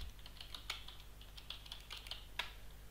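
Keys tapped on a computer keyboard during a software-defined radio GSM sniffing session, a quiet, irregular run of clicks close to the microphone over a steady low hum, no voices.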